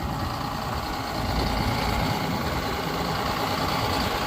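A tractor fitted with forks runs steadily while setting down a heavy tree on a site being prepped for concrete, a loud, continuous low engine rumble close by with no talking.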